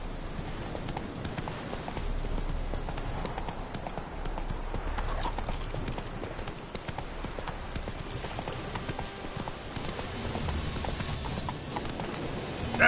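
Roach, the horse in a video game, gallops with a steady, rapid clip-clop of hooves that runs continuously at moderate loudness, with no voices.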